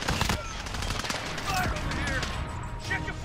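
Gunfire in a video game shooter, with rapid bursts of automatic shots and scattered single cracks, dense and close, while players talk over the shooting.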